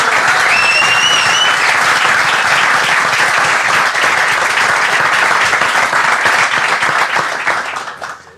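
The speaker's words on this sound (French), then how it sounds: "Je pense là aussi qu'on peut l'applaudir." An audience at an after-match gathering in a burger restaurant in Obernai claps loudly for the host. The dense applause holds steady with a brief whistle early on, then fades out at the end.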